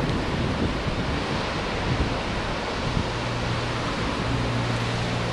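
Heavy surf rolling onto the outer reef and beach at Warwick Long Bay, Bermuda, ahead of Hurricane Igor, a loud, constant roar of breaking waves mixed with wind noise, with no talk.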